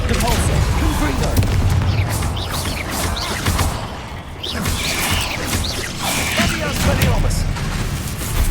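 Confringo explosive spell blasts in Hogwarts Legacy, heavy booms and crackling impacts repeating through a dense, continuous stretch of loud combat noise, with voices mixed into the fight.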